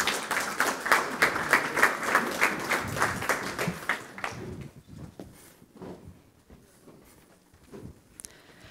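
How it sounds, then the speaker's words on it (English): An audience at the IT-SECX 2019 IT security conference breaks into steady applause welcoming a speaker, the clapping dense for about four seconds before thinning into scattered claps and quiet room noise. "Please give Johanna a warm welcome applause."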